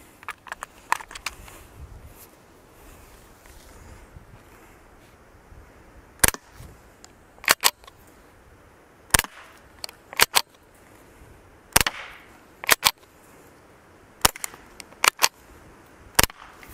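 A suppressed Ruger 10/22 Takedown rifle fires about a dozen sharp, dry cracks in irregular spaced bursts, some shots doubled close together, over a quiet outdoor background with no talk.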